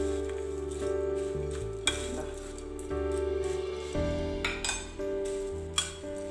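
Sev puri masala ingredients stirred together in a bowl, with repeated clinks and scrapes of a spoon against the dish in an uneven rhythm, close and fairly quiet.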